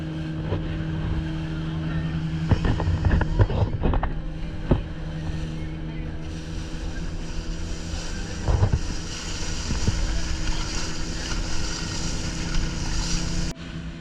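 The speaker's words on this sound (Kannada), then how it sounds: "ಈ ಬೋಟಲ್ಲಿ ಹೋಗೋ ರೈಡೇ ಬೇರೆ" Steady engine drone of a boat moving over the sea off coastal Karnataka, with wind buffeting and occasional thumps as it rides along.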